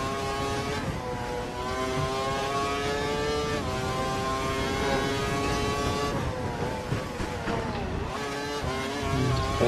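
A Formula One car from F1 2012 laps the Australian circuit, its engine a loud, steady high-pitched whine that rises and falls with gear changes, running continuously close by with no talk.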